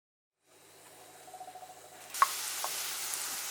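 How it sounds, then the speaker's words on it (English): Shallots and garlic hit melted butter in a pan: a quiet lead-in with a few soft thumps, then a sudden gentle sizzle that settles into a faint, continuous hiss. "we're going to saute our shallots and garlic in butter until it's soft"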